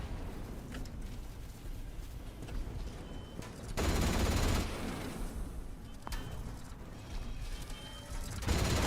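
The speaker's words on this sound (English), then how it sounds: "These turrets are shooting." Turrets in the game Atomfall firing at a distance, muffled repeated bursts of gunfire and rumbling blasts swelling into louder stretches between quieter mechanical background, with no voices.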